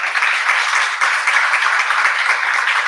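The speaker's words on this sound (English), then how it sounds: "round of applause" A seated audience applauds continuously, a dense even wash of many hands clapping at moderate distance, steady for the full few seconds with no talk over it.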